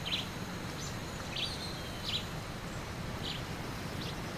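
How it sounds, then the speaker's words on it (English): In the Metal Gear Solid 3: Snake Eater video game, a bird chirps several times, each chirp brief and faint, scattered over a steady ambient background. "I think you shot a bird."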